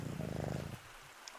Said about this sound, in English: The purring sound actually sounds so real.